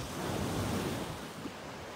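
Sea waves and surf rolling in at Mondello beach in Sicily, a steady broad wash of breaking water with some wind rumbling close on the microphone, with no voices.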